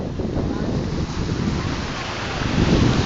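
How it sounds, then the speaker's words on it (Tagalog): Ocean waves at a beach, a steady, close wash of surf with wind buffeting the microphone, rising slightly toward the end, without clear speech. "yung maganda yung alon"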